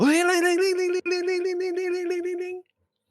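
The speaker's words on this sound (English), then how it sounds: "an annoying old school rotary phone." An old-school wall-mounted rotary phone rings loudly and close by, a harsh rapid metallic trill in two bursts with a tiny break, then silence.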